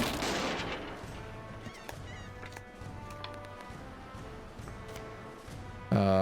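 Cannon explosions and gunfire in the pirate roguelike game Red Rogue Sea, a dense run of bursts over steady game music, with a loud blast at the very end.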